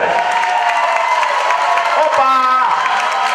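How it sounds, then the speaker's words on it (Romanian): At a fitness team Christmas party, a crowd claps and cheers for the gym's fitness and aerobics instructors, a loud, busy wash of applause with shouts and voices mixed in. "Vă rog să-i aplaudați cât puteți de tare!"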